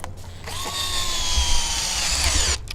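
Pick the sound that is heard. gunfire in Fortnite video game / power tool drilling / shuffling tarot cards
power tool drilling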